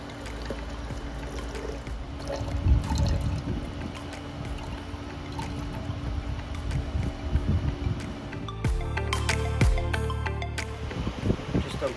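Nitric acid poured into a gold refining vessel, a soft liquid trickle and pour running steadily for several seconds with clinks and handling noises, a busier stretch near the end.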